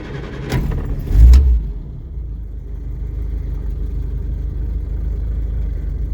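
A car engine with the choke pulled is cranked by the starter, catches with a loud burst of revs, then settles into a steady low idle, close by and with no speech.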